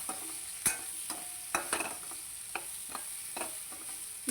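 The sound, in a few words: stirring brinjal and onion frying in a pan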